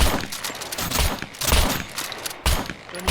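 Bursts of rapid gunfire and blasts in the survival game SCUM, loud and close, coming in several clustered volleys with brief gaps between them.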